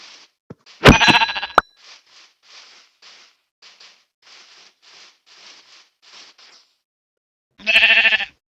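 A loud sheep bleat rings out in Minecraft, followed by a string of soft, evenly spaced rustling ticks, then another loud bleat at the end.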